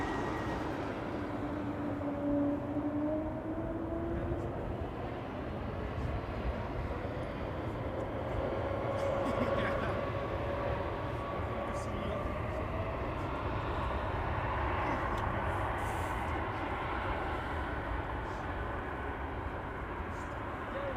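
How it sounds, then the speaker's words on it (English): A Coast Guard Dash 8-100 turboprop landing at Amsterdam Schiphol, a steady broad engine roar with rising and falling tonal whine, heard from a distance and holding throughout without talk. "Coast Guard Dash 8 100 landing there."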